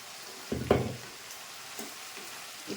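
Chicken frying in a pan is given one short stirring scrape, a brief burst of sizzle and clatter, followed by quieter, faint crackles.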